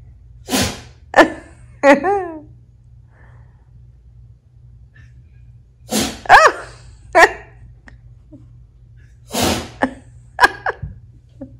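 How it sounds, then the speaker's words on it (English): A dog sneezing after a grooming session, several sharp close sneezes and snorts in scattered bursts separated by quiet pauses, with a few short gasping breaths between them. "Oh my gosh, you got sneezes."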